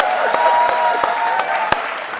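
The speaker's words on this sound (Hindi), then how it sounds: "इसके लिए तो मैं ताली बजा रहा हूं जी।" Studio audience applause on an Indian television courtroom-style talk show, a steady dense wash of clapping with a few sharper individual claps standing out, loud and close.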